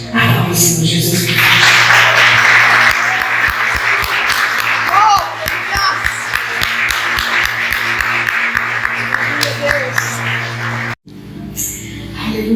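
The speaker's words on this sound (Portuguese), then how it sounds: "Aplauda o Senhor Jesus." Church congregation claps during a sermon, a continuous wash of hands with some distinct sharp claps, alongside voices and a low sustained tone, breaking off abruptly near the end before resuming briefly.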